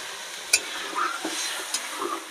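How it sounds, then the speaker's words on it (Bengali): Water poured into hot fried spice paste for a rui fish curry makes a soft, steady sizzle and bubbling hiss, with a few sharp clinks of a utensil against the pan, quiet and close. "এবারে এই যে জল দিয়ে দিলাম।"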